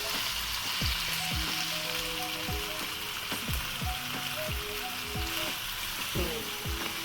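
Chicken frying with spices in a pan gives a steady, dense sizzle throughout, broken by repeated clinks and scrapes of a spoon stirring against the metal.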